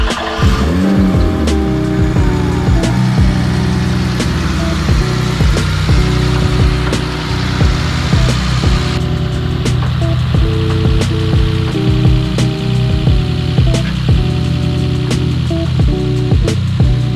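A car engine runs as the car is moved on a narrow road, a steady close drone with occasional light revving and rolling tyre noise, with no talking.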